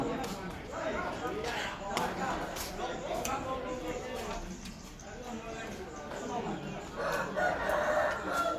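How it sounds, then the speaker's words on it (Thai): A rooster crows amid a busy background of clucking fowl and ambient noise, fairly steady and moderately distant. "โอ้เสียงไก่เนาะก็เสียงไก่ธรรมชาติ"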